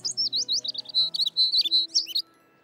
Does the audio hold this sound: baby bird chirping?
yes